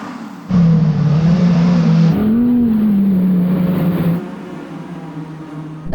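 Audi R8 on winter tyres launching from a standstill on snow, a loud steady engine drone rising in pitch and then easing, with no talk.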